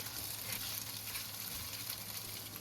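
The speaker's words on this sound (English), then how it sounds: "Now stir fry until you can smell the garlic." Beef with minced garlic and green onion stems stir-fries in a pan for a cabbage and beef dish, a steady, faint hissing sizzle with no clear stirring strokes.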